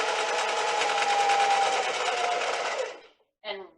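A sewing machine stitches fabric in one steady, close, continuous run of about three seconds, then stops abruptly, followed by a short faint sound.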